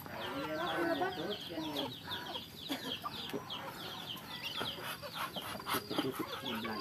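A free-ranging village chicken clucks repeatedly among tea bushes, with soft, scattered calls mixed into outdoor ambience while people talk nearby.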